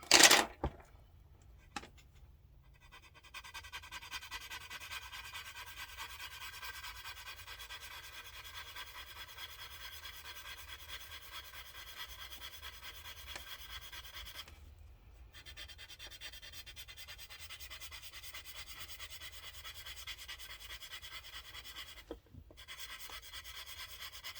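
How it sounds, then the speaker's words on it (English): Colored pencil burnishing and blending on paper for a mixed media fairy drawing, a close, continuous soft rubbing and scratching with short pauses between strokes, quiet and alone. "let's do our burnishing, our blending with our pencil"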